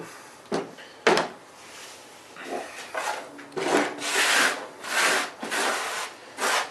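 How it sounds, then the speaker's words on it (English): A Dremel rotary tool grinds down a rough part in short bursts of abrasive buzzing, separated by brief pauses. The grinding is close and fairly quiet, with no talking. "I'm going to have to just Dremel that down a little bit"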